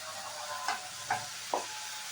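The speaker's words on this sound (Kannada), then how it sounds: "ಇಲ್ಲಿ ನಾನು ನೆನಕಿ ಇಟ್ಟಿರುವಂತಹ ತೊಗರಿಬೇಳೆನ ಹಾಕ್ತಾ ಇದ್ದೀನಿ" Soaked toor dal tipped into dill leaves frying in a pan for a North Karnataka style palya, a soft steady sizzle with three brief stirring scrapes spaced evenly.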